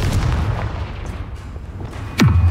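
A Confringo explosion spell goes off in Hogwarts Legacy: low rumbling combat noise, then a sudden loud blast with a falling whoosh near the end.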